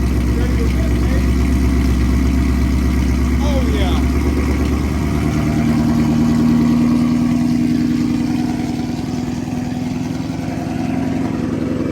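A boosted, supercharged Ford Mustang with an automatic transmission idles loudly nearby with its hood open, its deep steady rumble carrying a thin rising supercharger whistle that settles into a sustained tone, with voices faintly underneath.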